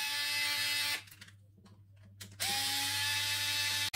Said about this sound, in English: Let's remove these two screws